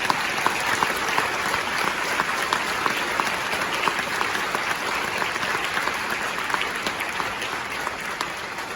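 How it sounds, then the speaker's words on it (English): Crowd at an eighth grade honor band concert applauds the band directors, steady dense clapping that holds at even loudness throughout with no talking. "Can we give them one more big round of applause?"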